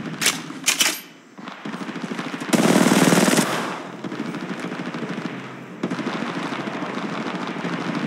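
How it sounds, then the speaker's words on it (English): Automatic weapons fire in the Apex Legends battle royale game comes in rapid bursts, with a dense sustained volley in the middle and steady loud rattling afterward. "Opening fire. Opening fire."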